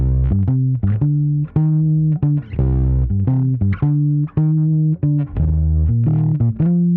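A Bass VI played through a JHS 424 Gain Stage pedal gives a warm, rich bass tone, a close, loud run of short plucked notes in a steady melodic line, with no voices.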